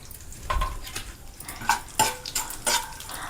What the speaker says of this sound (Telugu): మెంతులు, ఆవాలు కూడా ఈ పల్లీలతో పాటే వేయించేయండి.